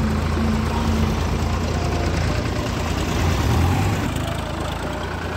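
A tractor engine runs on a farm hauling soil trolleys, a steady low rumbling idle with a slight knock, close and continuous without talk.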